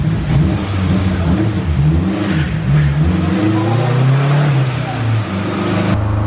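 An Acura RSX hot rod engine revs once with its exhaust cutout closed, a loud, muffled, steady rise and fall of engine note close by with people talking over it.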